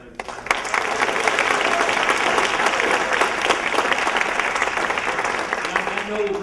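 Guests at a high school top-20 dinner give a round of applause, dense and steady clapping from a roomful of people that begins abruptly and holds throughout.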